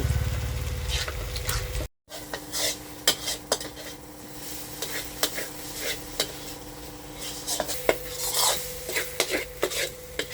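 Dried chilies roast in hot oil in a pan while a utensil scrapes and stirs them, giving a steady close sizzle broken by repeated metallic scraping strokes, with a short dropout early on.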